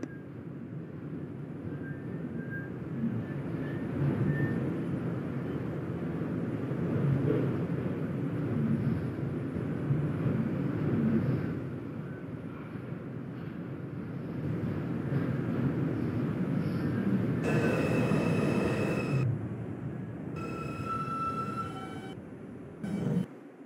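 An R142 subway train on the New York 5 line rumbles steadily at moderate volume, a continuous low mechanical roar that fades near the end into brief bursts of higher clatter and tones.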